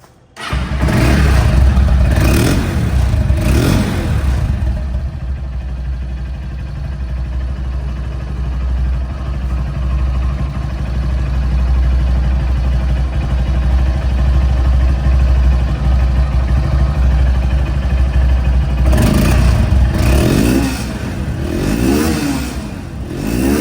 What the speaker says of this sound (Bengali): প্রথমে রানিং অবস্থায় সাউন্ডটা শুনিলাম একদম স্মুথ সাউন্ড পরে আবার পিক আপ টান দিয়ে শুনেলাম